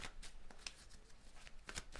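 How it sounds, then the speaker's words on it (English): A tarot card deck is shuffled, giving a faint, close riffling rustle with a few crisp snaps, quiet and without talk. "All right, 2 shuffles."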